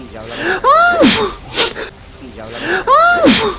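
A man sneezes loudly, close to the mic, with a sharp strained wheezing burst, then repeats it, set against busy video game sounds and some talk.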